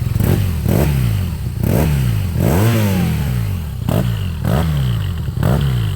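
A 2018 BMW R nineT with a boxer engine revs in repeated throttle blips, each rising and falling in pitch, about eight loud, close bursts in quick succession.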